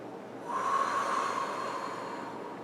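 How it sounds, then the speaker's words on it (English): Forceful breaths from a seated energizing breathing exercise, one sustained rushing exhalation with a steady airy hiss rising after a quiet start and holding, close and fairly soft, with no talking. "Three breaths."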